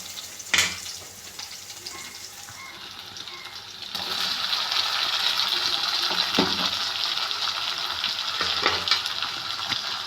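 Chopped tomatoes hit hot oil over roasted onions in a Tamil home-style curry pan, a light hiss that swells into a steady, bright sizzle, broken by a few scraping stirs of the spoon, close and moderately loud.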